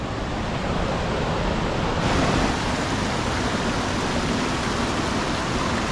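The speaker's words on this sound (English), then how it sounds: "the water for a lot of the winter is overflowing right here and just roaring down this whole thing" River water runs hard over slippery rocks on the Fresno Dome hike near Oakhurst, a steady, loud, unbroken rush of flowing water close by.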